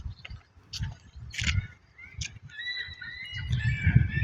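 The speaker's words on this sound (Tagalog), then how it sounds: "Ang daming ibon talaga, oh." Many birds call in a noisy outdoor flock near a commuter train station in Canada, with short chirps and squawks overlapping and a steady chatter building toward the end, fairly close and loud.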